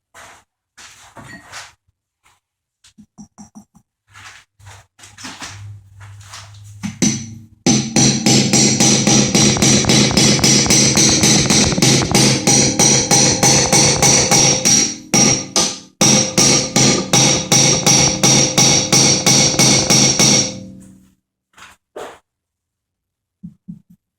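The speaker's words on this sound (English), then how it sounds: "So I'm going to go ahead and hammer this out." Rapid, relentless metal hammer strikes knocking out the end cap of a Wilton 8-inch 1780 vise ring out for over ten seconds, loud and close, after a few scattered knocks and shuffling at the start.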